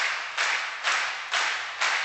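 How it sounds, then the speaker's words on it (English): Two different clap samples in a song, bright claps with low-mid body landing four times at an even, steady pace, each ringing out with a short decaying tail. "they use like 2 different clap samples with quite a bit of low mids here"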